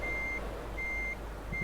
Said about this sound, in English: hopefully this beeping isn't too loud